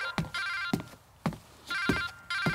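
A telephone rings in a home in a romance film, sounding a steady series of bright, buzzing ring bursts with short gaps between them. Soft thumps mark each burst, and no one speaks.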